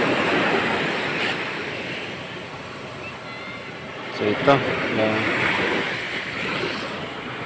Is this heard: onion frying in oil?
no